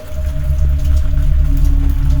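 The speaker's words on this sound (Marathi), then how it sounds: "बाहेर धोधो पाऊस कोसळत होता" Heavy rain falls in a dark, eerie scene, a dense, continuous patter over a low, steady droning rumble, loud and unbroken.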